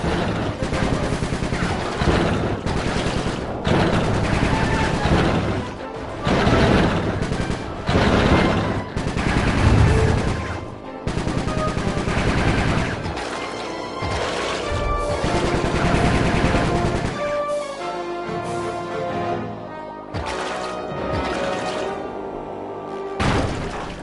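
Rapid, sustained gunfire from the video game Sly Cooper 3, with dense repeated shots and bursts running almost without pause, mixed with game music and impacts.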